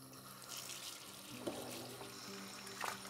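Tap water runs steadily into a sink for a guinea pig bath, a soft continuous wash with light splashes and no voices.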